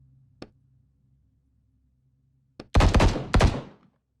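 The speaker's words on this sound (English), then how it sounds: "Did I just hear gunshots?" Gunfire in the horror game The Bookwalker: a lone sharp shot, then after a pause two or three loud, close bursts of blasts with ringing decay, no voices.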